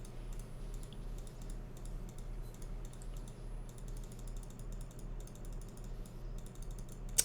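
Rapid computer clicks during a space video game session, a dense run of light, close, irregular taps. Nobody talks.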